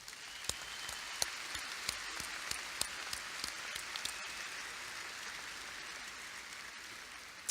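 A crowd applauding at a high school graduation ceremony, a thin, even patter of many hands heard from a distance across a large hall, with a few sharper claps standing out early on before the sound settles and fades.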